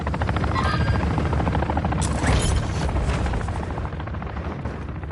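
Gunfire in the shooter game DMZ rings out amid the heavy, pulsing thump of a nearby helicopter rotor. Scattered shots and bursts are partly masked by the steady chopping drone.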